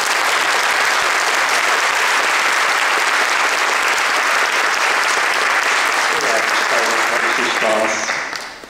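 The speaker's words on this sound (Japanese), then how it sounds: "参加いただいた方に最後に拍手を持って終わりたいと思います" Sustained, loud applause from a symposium audience closing a town-planning talk session, dense and continuous for several seconds; a voice speaks under it near the end as the clapping fades.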